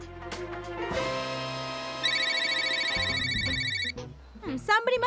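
A lost mobile phone rings with a bright electronic ringtone, a repeating melodic pattern that stays loud and steady before breaking off, with voices briefly at the end.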